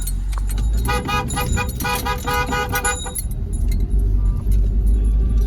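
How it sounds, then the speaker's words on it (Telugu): Vehicles drive and turn on a snowy mountain road between Kargil and Srinagar, with a steady engine rumble and repeated horn toots at mid distance, and people talking in the background. "చూడండి ఎట్లా తిరుగుతున్నాయి ఈ బండ్లే"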